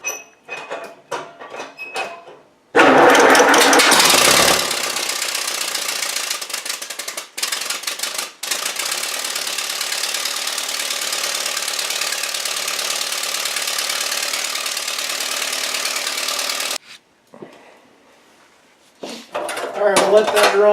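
Engine idling steadily while it warms to operating temperature for a valve clearance check, a close, even, loud run lasting most of the stretch after a burst of revving, with some voices talking before and after.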